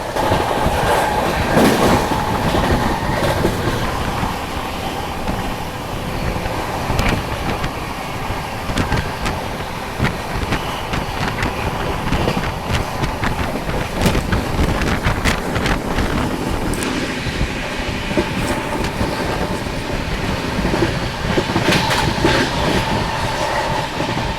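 Vikramshila Express running at speed through Chunar Junction without stopping, a loud continuous roar of wheels and carriage rumble with clickety-clack rhythm and heavy wind buffeting, steady for the whole stretch, no voices.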